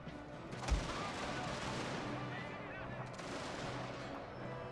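Troops fire in a strategy war game with a sharp nearby shot early on, followed by a rolling mix of distant musketry and artillery rumble that continues steadily beneath the sound of the battle.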